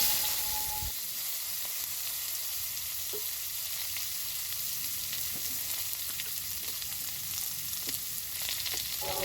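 Pieces of cut raw mango frying in oil with whole spices in a pan, giving a soft, continuous crackling sizzle with occasional light taps from a spatula.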